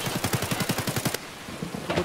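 A rapid burst of automatic gunfire in Escape From Tarkov, about a dozen sharp evenly spaced shots in quick rhythm, loud and close, then a short gap before another shot begins.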